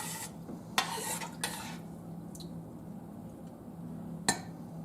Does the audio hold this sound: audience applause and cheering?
no